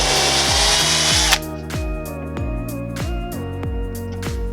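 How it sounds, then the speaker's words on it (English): A cordless power drill with a 1/16 inch bit bores through a wooden kitchen cabinet for a lazy Susan turntable install, with a loud close whine and then a revving motor pulsing in repeated bursts. "now you'll take your drill with the 16th inch drill bit and just put it in the center of your mark"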